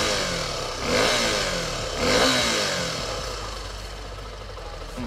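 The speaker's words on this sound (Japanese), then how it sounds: "アクセル回してみますね。" A Suzuki V-Strom SX single-cylinder motorcycle is revved twice in quick succession, each throttle blip rising sharply and then falling back to a steady idle, heard close and alone with no talking.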